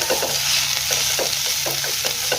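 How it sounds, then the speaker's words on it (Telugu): About ten garlic cloves and cumin seeds fry in a pan over a low flame for coriander pickle, giving a steady close sizzle with soft scraping stirs throughout. "ఇప్పుడు దీంట్లో ఒక 10 వెల్లుల్లి రేకలను వేసుకుని జస్ట్ అలా మగ్గించుకున్నాము వేడికి"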